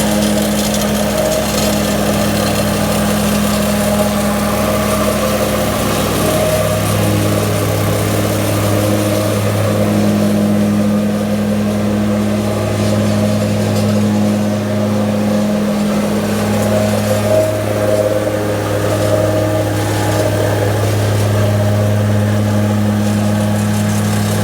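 A rented compactor with an electric motor runs steadily on a farm, making a loud, continuous mechanical drone with a low hum that rises and dips slightly, close by throughout.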